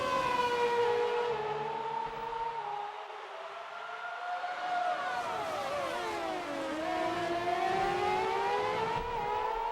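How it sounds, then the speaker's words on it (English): Formula One race cars in a Renault 2006 Hungary GP event scream past with high, rising and falling engine whines that sweep in pitch, fairly faint and continuous with no talking. "when I stop talking, the volume of the cars will ramp back up"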